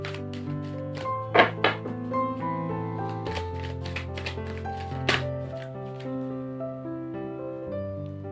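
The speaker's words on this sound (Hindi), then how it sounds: "बस एक कार्ड और ड्रॉ करेंगे हम लोग।" Tarot cards drawn and shuffled from a deck during a reading, with soft papery flicks and a few sharper card snaps, close up over a steady background tone, without speech.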